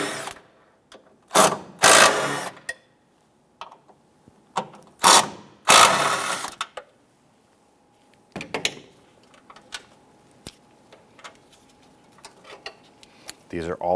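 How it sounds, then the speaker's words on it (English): A hand ratchet loosening 16mm engine mount bolts on a 2008-2013 Nissan Rogue, loud close bursts of rapid clicking in several separate runs with quiet gaps between them. "Let's loosen and remove those bolts."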